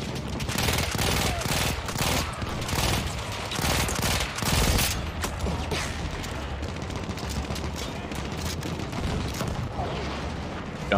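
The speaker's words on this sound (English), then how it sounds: "Now for the double barrel SMG" Double barrel SMG fire in Battlefield 1, a dense rapid stream of automatic shots with booming bursts, loud and continuous throughout with faint voices mixed underneath.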